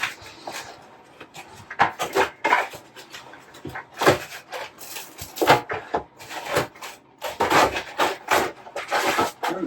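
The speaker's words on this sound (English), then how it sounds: "some more styrofoam" Styrofoam packing from a Flashforge Adventurer 5M 3D printer box is handled up close, producing irregular squeaky rubbing and scraping bursts of varying loudness, with no speech.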